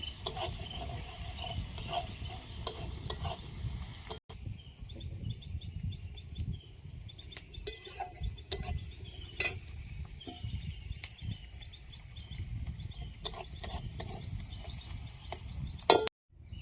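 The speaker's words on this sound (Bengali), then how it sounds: "পেস্তার জন্য পেঁয়াজগুলোকে আমি সুন্দর করে তেলের উপরে ভেজে নেব" Onions fry in hot oil for a Rui fish curry paste: a quiet, continuous sizzle with intermittent scraping stirs and a sharp knock, plus faint bird chirps in the background and a sudden cutoff at the end.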